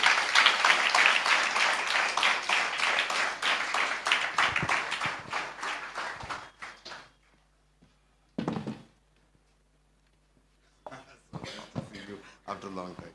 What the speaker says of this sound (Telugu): ప్రవక్త డానియల్ గారు చప్పట్లతో వారిని ఆహ్వానిద్దాం